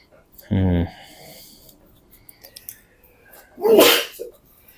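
A person lets out a single loud sneeze, preceded by a short voiced intake sound, close to the microphone.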